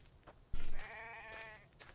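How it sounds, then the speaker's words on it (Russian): A sheep bleats in the zombie survival game The Infected: a dull thump, then one wavering bleat of about a second at moderate loudness, with quiet game ambience around it and no talking. "Какие-то овцы бегают."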